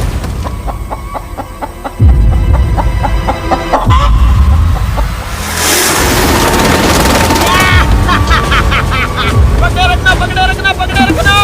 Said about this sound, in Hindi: मैंने मुर्गी पकड़ ली।